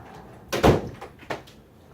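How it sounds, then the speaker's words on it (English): A door is pushed shut against cold wind outdoors in Oakland, one heavy thud followed by a smaller knock or latch sound, close by and alone with a faint background hiss. "Hang on, I'm going to close this door."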